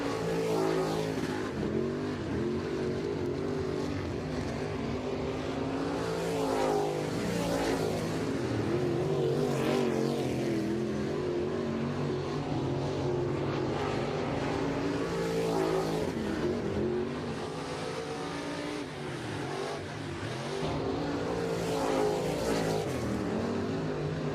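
Dirt-track race cars at Brownstown Speedway roar through hot lap time trials during the Lucas Oil Jackson 100, engines rising and falling as they sweep past in a continuous loud, droning pack with repeated passes.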